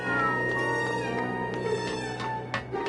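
A cat in Grim Fandango Remastered gives a drawn-out, wavering meow, close and clear, then trails off into softer mewing sounds over a steady background tone.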